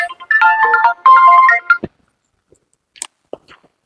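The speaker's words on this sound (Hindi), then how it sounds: "वह देखो क्यों फोन आवत बा" A phone ringtone plays a bright electronic melody for under two seconds, then stops, followed by a few faint clicks and taps.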